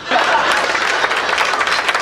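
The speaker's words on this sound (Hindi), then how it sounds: "ये ताली बजा रहे हैं" An audience at a Hindi comic poetry gathering claps steadily for about two seconds, a dense patter of many hands without a break.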